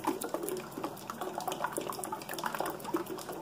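Tomato soup is poured over the top of a grilled cheese bake, a soft continuous liquid splashing and trickling that stays faint and close, with no voices.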